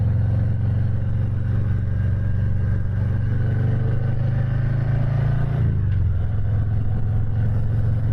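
Harley-Davidson Heritage touring motorcycle engine while riding, a steady loud low rumble that holds even, then drops in pitch slightly past the midpoint as the bike shifts or eases off, with no talking.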